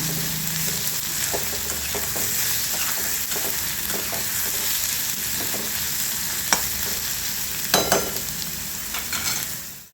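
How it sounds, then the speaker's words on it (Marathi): Onion sautéing in a pan until light pink for a spicy onion-tomato chutney, a continuous close sizzle with soft stirring scrapes and a few sharper clinks near the end. "आता छान कांदा परतून घ्यायचा आहे छान कांद्याचा कलर हलका गुलाबी होतपर्यंत आपण थोडंसं परतून घ्यायचं"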